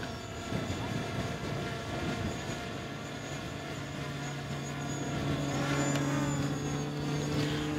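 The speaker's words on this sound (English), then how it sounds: "you can hear an airplane go overhead" A steady, low rumbling drone of an airplane passing overhead, swelling slightly louder toward the end over faint outdoor background noise.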